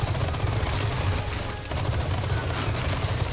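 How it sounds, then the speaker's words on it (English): Rapid Gatling gun fire in the Resident Evil 4 video game, a continuous, loud stream of shots with a brief dip in the middle before it carries on. "if I hear shouting, then they're gonna hear gunfire. Gatling fire."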